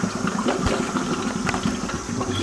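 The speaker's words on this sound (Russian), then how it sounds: "мы слышим, пошло бульканье." Water churns and gurgles through the pump of a RIMS home brewery system over a steady motor hum, close and continuous with occasional sharper bubbling bursts and no talking.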